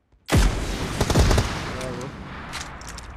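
Heavy-weapon gunfire in PUBG Mobile erupts abruptly as dense automatic bursts and rapid shots, loud and close, continuing in rattling volleys for a few seconds.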